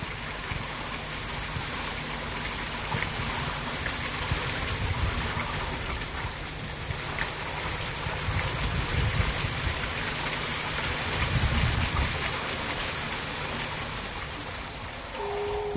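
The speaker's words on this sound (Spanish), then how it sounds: "se oye todavía el golpe del manantial de agua" Spring water gushing steadily in the Barranco de Badajoz ravine, a continuous broadband rush like heavy rain or a small waterfall, fairly close, even in level with slight swells and no voices.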